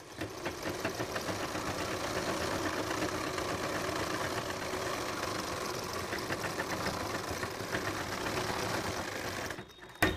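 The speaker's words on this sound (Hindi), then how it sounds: "अब सिलाई के ऊपर ही सिलाई लगाना है" A sewing machine stitches trousers with a fast, steady mechanical rattle that runs continuously at close range for about nine seconds, then stops abruptly, with no speech over it.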